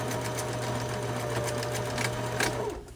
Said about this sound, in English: Always back stitch, pre and post.